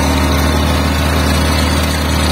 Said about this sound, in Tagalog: Si Manchaga naman nagka-grass cutter